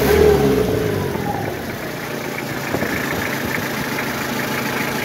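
A Toyota Hilux diesel engine with 200,000 km, freshly decarbonised and running on biodiesel, idles loud and close. It rumbles steadily, with a brief rise in revs at the start.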